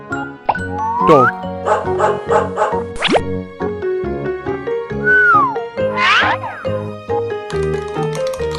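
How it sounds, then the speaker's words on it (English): A cartoon dog barks in a short run of repeated yaps amid a children's farm-animal learning piece, set against jingly musical effects and playful sound cues. "Dog."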